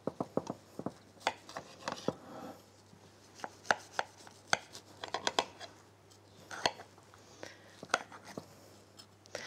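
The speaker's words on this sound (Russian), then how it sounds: "Я сейчас их все три сразу за один раз разрежу" A knife slices through three buttery, cheese-filled Ossetian pies at once, giving a run of irregular crisp cuts and taps on a board, close and fairly quiet.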